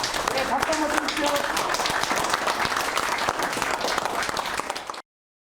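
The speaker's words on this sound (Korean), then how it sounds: "박수 한번 주십시오" Applause from guests at a dinner following an inauguration ceremony, steady, dense clapping that fills the room and carries on evenly before cutting off abruptly.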